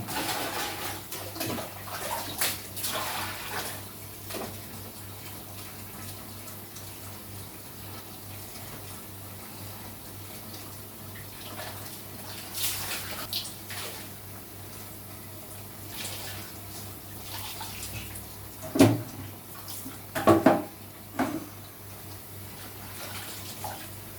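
Laundry being rinsed by hand in a basin of water gives soft, steady sloshing and splashing, with a few louder splashes toward the end, close by and with no talking.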